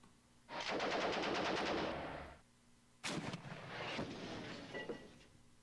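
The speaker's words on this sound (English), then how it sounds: "I didn't switch targets for the whole mounted machine gun" A mounted machine gun firing in the tank video game Armoured Commander II: a sustained rapid burst of automatic fire, a short pause, then a sharp blast followed by more rattling fire, close and loud.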